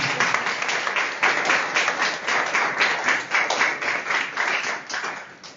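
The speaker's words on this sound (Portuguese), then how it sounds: "Palmas para o Luiz Sérgio." Audience clapping for a guest at a spiritist talk, a lively, fairly close round of applause with a loose rhythmic pulse, continuing evenly throughout.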